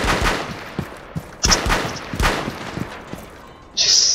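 Rapid gunfire in the tactical shooter Rainbow Six Siege, with several loud, sharp bursts of shots spaced across the moment and a brighter burst of noise at the end.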